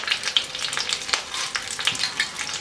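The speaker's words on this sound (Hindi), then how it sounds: "ऐसे चलाते हुए चना दाल को हमने थोड़ी टाइम के लिए भून लिया है" Chana dal stirred and fried in hot oil, a steady close sizzle broken by repeated scraping clicks of the spoon against the pan, with no voices.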